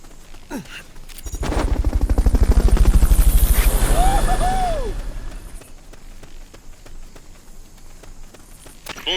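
Helicopter in Metal Gear Solid: Peace Walker, a loud rhythmic rotor chop that swells in and then fades away over several seconds, with game sound effects around it.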